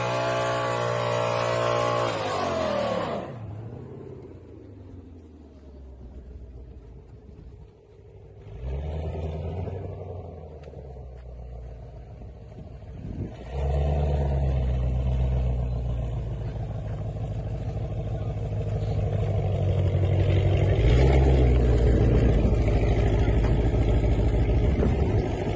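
A Ford GT500 fitted with a Whipple supercharger makes a drag racing pass, heard as a loud engine roar that drops away, returns and builds again in surges, with distant rumbling between the bursts.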